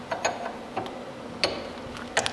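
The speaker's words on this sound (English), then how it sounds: "Now we gotta take this jam nut off. Let me grab my 21mm wrench." A wrench works a slightly rusted 21mm jam nut loose on the inner tie rod of a 2005-2014 Mustang GT, giving a few faint, sparse metallic clicks and ratcheting ticks up close over a quiet background.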